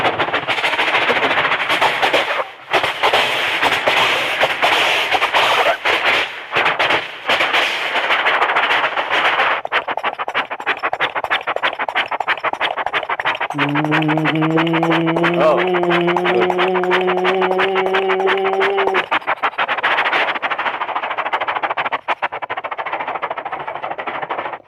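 A voice imitates a train, a jeep and a horse in a combined mimicry act on a stage show, with loud rhythmic chugging and a sustained whistle-like tonal passage midway, with no talk over it.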